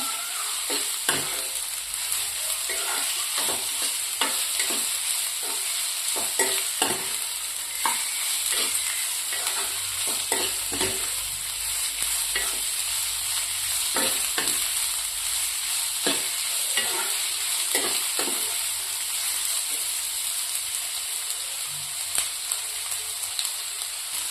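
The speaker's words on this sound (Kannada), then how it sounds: "ಉಳ್ಳಾಗಡ್ಡಿ ಒಂದು ಸ್ವಲ್ಪ ಬಾಳೋ ತನಕ ಹುರಿಬೇಕ್ರಿ" Sliced onions fry in a pan for restaurant-style egg masala, a constant sizzle broken by repeated scraping strokes as a spoon stirs them at an irregular pace, close and fairly loud.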